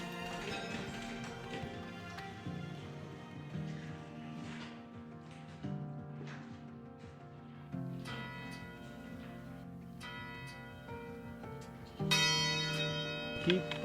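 A church bell on the Via Podiensis pilgrimage route to Conques is rung by hand, giving several ringing strikes with long resonant decay, spaced apart and moderately close.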